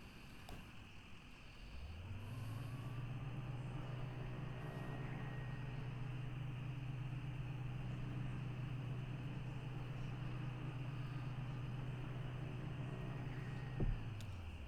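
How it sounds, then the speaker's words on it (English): A car engine drives away in the video game Kentucky Route Zero: a low, steady droning hum that settles in after a couple of seconds and holds evenly, ending with a brief click. "We drive away."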